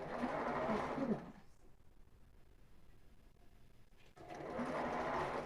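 A sewing machine stitches the strap of a ribbed knit tank top in two loud, steady runs of about a second each, with a quiet pause between them.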